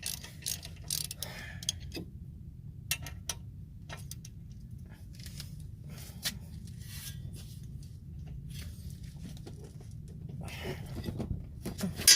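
A ratchet wrench turning 15 mm bolts on the front wheel bearing bracket of a Volvo C70: rapid, quiet ticking clicks in irregular bursts at close range over a low background hum, with no talk.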